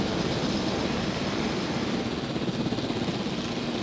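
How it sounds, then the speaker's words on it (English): Steady broadband rotor and engine drone of a helicopter in the video game Jurassic World Evolution, holding at a constant level throughout with no talk. "we'll get the helicopter into position before we release the Indoraptor"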